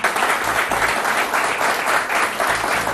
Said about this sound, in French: Mais je vous demande quand même de l'applaudir.